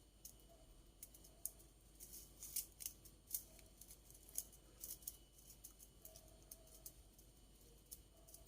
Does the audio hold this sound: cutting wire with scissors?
yes